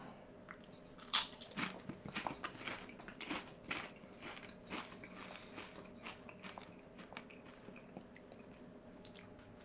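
Someone crunches heavily coated, spicy cheese-flavoured orange tortilla chips at close range, with a sharp first bite followed by irregular crisp chewing crunches.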